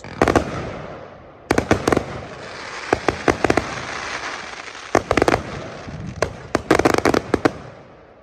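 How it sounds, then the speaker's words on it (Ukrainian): Fireworks at a Remembrance Day celebration in England: a steady run of sharp bangs and crackling bursts, some in quick clusters, sounds over a continuous rumble of distant explosions, with no voices. "Рівно дві хвилини таких прекрасних яскравих феєрверків"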